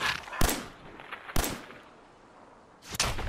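A 10mm pistol fires in Fallout 4's VATS targeting mode, three sharp separate shots about a second apart, each a loud crack with a short decaying tail, with no talking.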